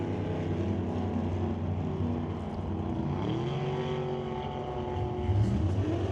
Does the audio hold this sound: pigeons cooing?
no